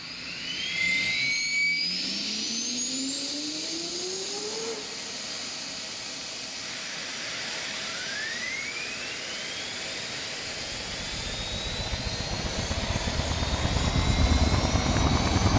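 A helicopter in a military video game gives a steady turbine whine with rising, sweeping tones, growing gradually louder toward the end.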